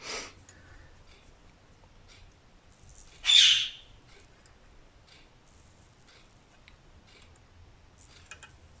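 A bird squawks loudly once in the background of a quiet indoor glass-etching session, a short harsh burst mid-way, with a smaller chirp at the start and faint ticks scattered through the near silence.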